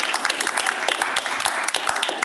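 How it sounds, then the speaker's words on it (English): Audience at an intern and fellow orientation breaks into applause, a dense, lively patter of many hands clapping at once, moderately loud and filling the whole short stretch. "Give yourselves a round of applause"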